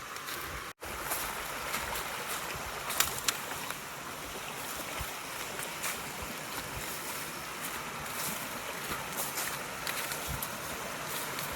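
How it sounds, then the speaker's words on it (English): A creek's running water along a wilderness trail in the Upper Buffalo area, a steady, fairly quiet rushing wash with a brief dropout early on. "I love the sound of running water."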